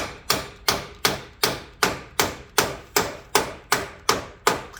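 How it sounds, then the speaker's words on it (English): A hammer taps a steel bushing into place in a steady rhythm, about ten sharp evenly spaced taps, close and loud, with nothing else heard. "maybe a little even tapped in with a hammer."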